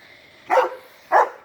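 A white husky barks twice outdoors near a swing, two short, fairly loud woofs spaced about half a second apart against a quiet background.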